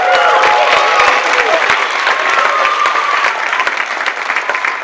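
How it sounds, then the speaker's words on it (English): A camp audience applauds its young show performers with steady, dense clapping throughout, some whoops and voices rising over the sustained applause. "give them a round of applause"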